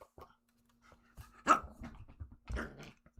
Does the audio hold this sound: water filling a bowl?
no